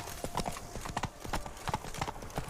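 Rapid galloping hoofbeats of the horse Roach pound steadily throughout in The Witcher 3: Wild Hunt, close and rhythmic with no talking.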